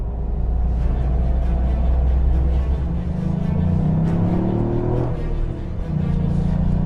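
A road-registered Toyota GR Yaris rally car drives by with a deep engine rumble that rises and falls as it revs through the gears, loud and close, with no voices.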